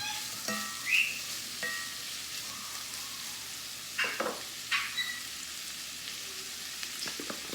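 Swiss steak with onions and peppers being stirred and scraped in a hot pan, a soft steady sizzle broken by occasional spoon scrapes and clinks against the pan.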